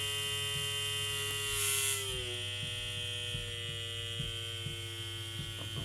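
A KillerBee tattoo machine hums steadily up close, its buzzing tone dropping and settling into a smoother, quieter drone partway through, with no talking.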